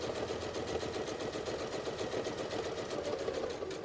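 A sewing machine runs steadily, stitching binding onto a quilt with a continuous fast whirring hum and no pauses or talk over it.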